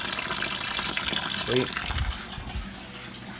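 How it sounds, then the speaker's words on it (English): Water gushes and splashes out of a Volkswagen Jetta MK4 during a coolant flush, a steady pouring wash with a brief gurgle midway, heard close while a person speaks a word over it. "there's the water coming out."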